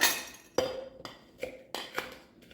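Cucumber slices muddled in a glass, with a sharp clink followed by several spaced, ringing taps against the glass, close and clear, with no talk.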